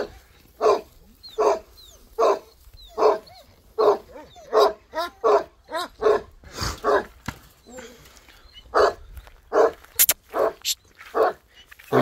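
Tibetan mastiff puppy barking close by in a long series of sharp, evenly spaced barks and yips, with a few whimpers mixed in and a person talking in between.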